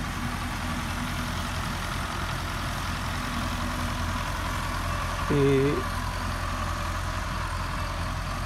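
A Belarus tractor engine idles with a steady low diesel rumble and drone while someone talks over it.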